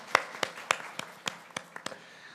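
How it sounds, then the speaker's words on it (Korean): Scattered hand claps from a congregation during a church service, about nine sharp, separate claps in a loose uneven rhythm, fairly faint and brief. "하나님께 박수로 영광 그리고 할렐루야"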